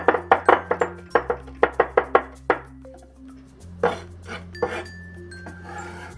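Knife blade chopping raw pork into a fine mince on a cutting board, a fast burst of close, sharp knocks, a brief pause, then another rapid run of chops before softer scraping and scattered taps.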